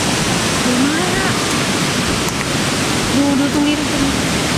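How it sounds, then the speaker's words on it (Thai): The Li Phi waterfall in southern Laos rushes loudly through narrow rock channels in a constant roar, with people talking over it at moments. "มันใกล้น้ำตกมากเลยอ่ะ"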